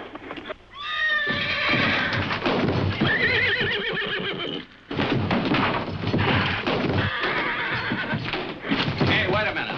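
A horse whinnies loudly near the start, followed by clopping hooves and thuds, with voices talking over parts of it.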